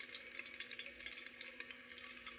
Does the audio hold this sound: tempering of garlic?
yes